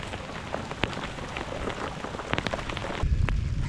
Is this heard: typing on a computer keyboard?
no